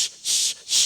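A voice imitates a pressure cooker with two loud, sharp hissing bursts in quick succession, separated by a short gap, close and alone.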